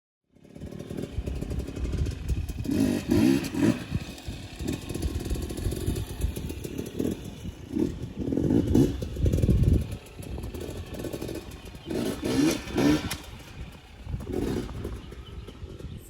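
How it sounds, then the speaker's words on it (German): A dirt bike rides an off-road track at an Australian campsite, its engine rising and falling in loud revving bursts as it passes nearer and farther, with no talk over it. "Der fährt gerade mit seinem Bike."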